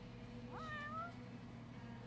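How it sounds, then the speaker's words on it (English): A cat meows in a cat cafe in the video game Yakuza 6, a single clear rising-then-falling call over a steady low background hum. "There's so many cats here."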